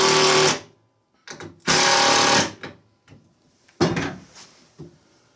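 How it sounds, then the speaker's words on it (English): Screws being driven out of the front of a wooden box frame with a power driver, three loud whirring bursts separated by short pauses and softer clicks, close up with no talk. "let's pull these screws out of the front here"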